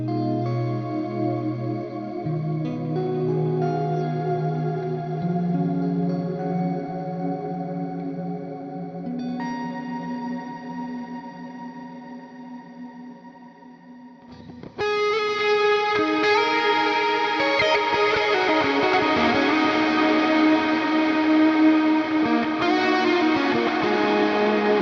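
Heavy metal guitar run through a modern metal songwriting plugin, distorted with chorus and echo effects, playing a calmer layered section before a loud, dense full-band riff kicks in about halfway, with no talking.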